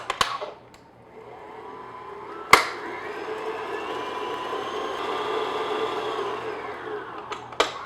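Electric mixer beating a room-temperature egg yolk into buttery shortbread thumbprint cookie batter, a steady mid-pitched whir that starts after a brief bump, runs continuously at moderate loudness, and ends with a clack or two of the beaters.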